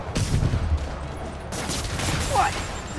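Rockets fired in rapid bursts during a Spider-Man Remastered battle, a dense crackling volley of loud blasts and whooshes that fills the whole stretch, with no talk over it.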